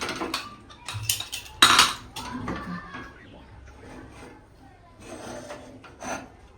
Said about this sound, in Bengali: প্রেসার কুকারের ঢাকনিটা খুলে